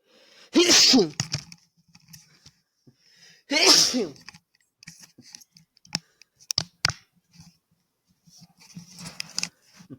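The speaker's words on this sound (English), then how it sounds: "Apparently, I can sneeze" Two loud, sharp sneezes close to the microphone, a few seconds apart, followed by scattered clicks and rustling.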